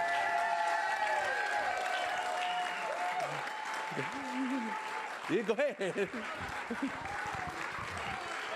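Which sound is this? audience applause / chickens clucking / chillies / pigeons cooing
audience applause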